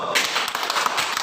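Classmates in a school classroom give a short burst of clapping, dense and close, lasting barely more than a second.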